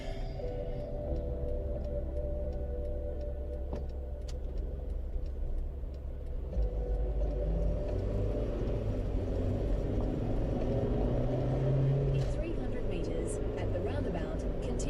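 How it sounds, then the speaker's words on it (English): Steady low road rumble from inside a moving car on the way to work in Tasmania, with a faint ticking like an indicator and a voice talking now and then. "Oh, traffic."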